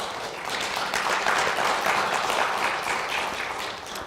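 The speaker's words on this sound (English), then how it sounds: "Let's give them a round of applause." At a budget meeting, a roomful of people applauds the board members, a steady patter of clapping that swells slightly in the middle and then tapers toward the end.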